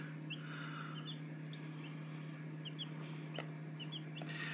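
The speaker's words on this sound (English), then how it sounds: "We got some baby chicks." Baby chicks in a brooder under a heat lamp give soft, scattered high peeps over a constant low electrical hum, with no voices.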